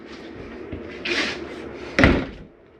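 Cabinet doors on a 2021 Palomino Columbus 329DV RV close in turn, with a soft swishing close followed by a firmer, louder latching thud nearby.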